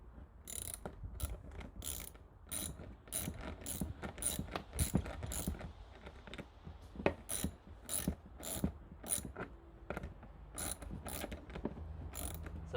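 A nut being spun onto a skateboard truck axle gives repeated quick ratcheting clicks in irregular bursts, close and fairly quiet, with no voices.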